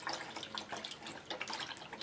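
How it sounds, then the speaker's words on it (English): Makeup brushes shaken in soapy water for cleaning, a close busy sloshing and dripping with rapid splashy agitation, continuous and alone without speech. "I'm just shaking them in there, getting that soap all in the bristles"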